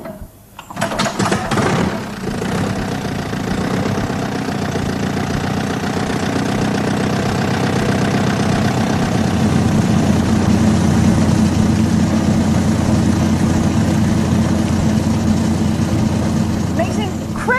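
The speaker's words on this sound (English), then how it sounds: "like this wonderful old thresher" A large old threshing machine runs steadily and loudly after starting up, a rumbling mechanical drone with rattling, continuing throughout.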